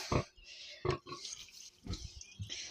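A pig lying in water grunts several times, short low snorts close by with wet splashing and dripping between them.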